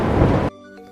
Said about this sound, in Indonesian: petir menyambar, dan suara guntur bergemuruh, memekakan telinga